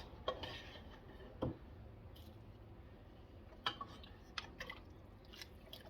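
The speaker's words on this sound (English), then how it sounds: "I'm going to give that a stir" A spoon stirs wild rice through turkey soup in a pot, giving faint scattered clinks and soft wet scrapes against the metal, quiet and close.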